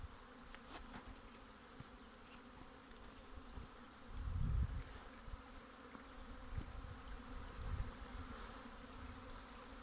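Honeybees swarm at the hive entrance on a spring cleansing flight, a dense, steady buzzing drone of many insects with occasional louder passes near the listener, otherwise quiet.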